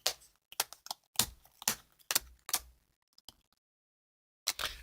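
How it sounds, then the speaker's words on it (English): A deck of game cards shuffled close up during a tabletop campaign session: bursts of crisp riffling snaps, one after another, then a short silence before a final flurry. "So let's do some shuffling."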